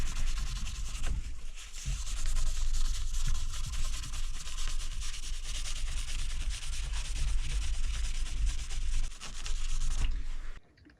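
A cloth rubs lemon oil off the body of a replica Dimebag Darrell Southern Cross guitar, giving a steady, close scrubbing rasp that runs almost unbroken before stopping abruptly at the end.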